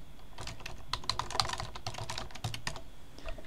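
Quick bursts of typing on a computer keyboard, crisp close key clicks in uneven runs with brief pauses, no talk.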